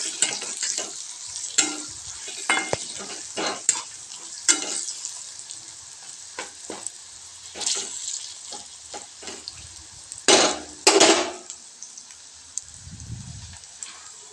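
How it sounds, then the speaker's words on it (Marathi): Spices fry in a pan for a spicy brinjal curry, with a soft sizzle under intermittent sharp scraping and clanking stirs of a spoon, close and uneven in rhythm. "आता आपल्याला ते मसाले व्यवस्थित हलवून घ्यायचे"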